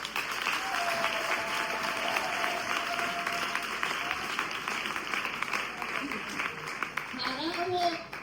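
An audience applauds guests at a celebration, dense, continuous clapping that fills the space, with a voice rising over it toward the end.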